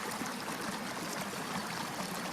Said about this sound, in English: I'm going to tune in instead to the noises that I prefer, which is the sound of the creek.